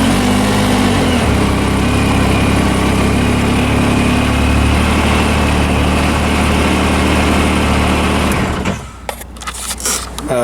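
A 2017 Yamaha YXZ1000R SS SE side-by-side engine runs at a loud, steady, close idle with a constant mechanical hum for about eight seconds, then cuts off abruptly, leaving some brief clatter.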